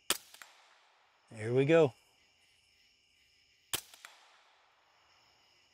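Rifle shots fired at a steel target plate during a predator hunting session with a thermal scope, two sharp loud cracks about three and a half seconds apart, each with a short ringing tail; someone speaks briefly between them.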